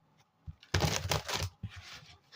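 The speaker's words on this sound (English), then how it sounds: "One more shuffle." Tarot cards are shuffled by hand in a quick burst of crisp riffling and slapping, close and fairly loud, followed by a few softer card taps, with no talking.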